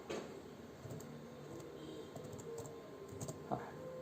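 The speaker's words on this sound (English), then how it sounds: "I typed here" Fingers type steadily on a computer keyboard, a run of soft, close key taps with light clicks and no voices.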